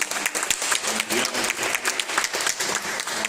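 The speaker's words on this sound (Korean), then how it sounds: "우리도 하나님께 영광의 박수 올려드리겠습니다" A church congregation at a Sunday worship service in Paris breaks into steady, dense applause, many hands clapping together in a sustained wash without a break.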